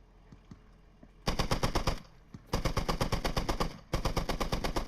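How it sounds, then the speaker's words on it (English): Loud automatic gunfire rattles in Squad, the military shooter game, as three sustained bursts of rapid, evenly spaced shots with short pauses between them and faint scattered shots before the first burst. "Shots are going north towards Truth Realm."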